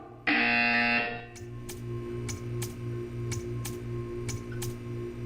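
A loud electronic buzzer in the video game Portal 2 blares for about a second, then gives way to a steady, rhythmic ticking.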